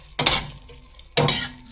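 Two metallic clinks and scrapes of a utensil stirring meat, aubergine and carrots in a pan, about a second apart, close and fairly loud.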